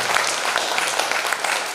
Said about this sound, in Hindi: उस बेटी का सम्मान कीजिए तालियों की गड़गड़ाहट के साथ